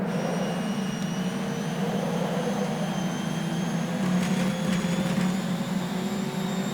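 A steady, loud engine drone with a sustained high-pitched transmission whine rising gradually over it, like a car accelerating through gears; a Toyota GT86 street car in the rFactor 2 racing game.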